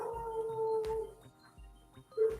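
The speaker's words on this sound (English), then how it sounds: "Sorry about that. That dog outside," A dog howls outdoors, a drawn-out wavering cry under a muffled rhythmic thumping, followed by a short, louder yelp at the end.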